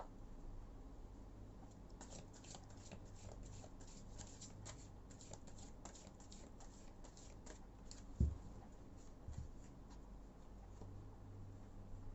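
Tarot cards being shuffled close by, giving quiet, rapid flicks and papery slides with one small knock midway, under a faint hiss and with no talking.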